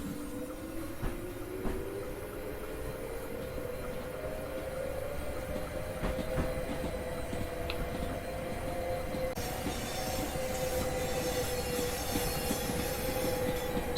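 Electric train on the Chatham Main Line in Train Sim World 2022 pulling away gently under power notch 3, a rising motor whine climbing steadily over rumbling wheels and track noise, with a few clicks and clacks early on.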